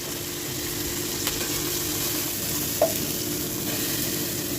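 Tomatoes frying in a pan give a steady, even sizzle throughout, close by with a single small clink partway, no voices.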